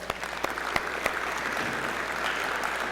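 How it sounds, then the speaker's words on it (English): Audience applause for kids after a youth basketball clinic, steady clapping with a few distinct close claps standing out, fairly loud and continuous throughout. "make sure to give them another round of applause"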